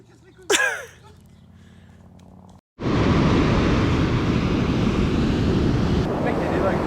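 Ocean surf at a beach on Oléron rumbles in a loud, continuous wash with heavy wind buffeting the microphone, preceded by a quieter stretch with a brief sharp sound and a short dropout.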